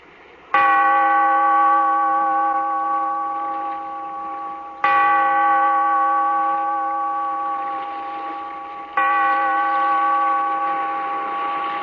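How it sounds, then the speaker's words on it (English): A deep bell tolls three times in a radio drama, each strike ringing out with a long, slowly fading resonant hum before the next, loud and alone with no voices. "Bellkeeper, toll the bell, so that all may know we are gathered again in the weird circle."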